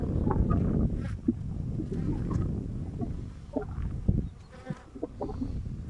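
Dense, steady buzzing of many honeybees close by at an open hive, a continuous droning swarm with individual bees swelling louder as they pass.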